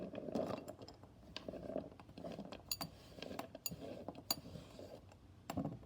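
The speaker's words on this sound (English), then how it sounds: "we're just going to scoop the beeswax into that" Small chunks of beeswax scooped into a bowl for homemade scented lip balm, giving faint, close clinks, light clatters and scraping ticks in an irregular rhythm, quiet and without talk.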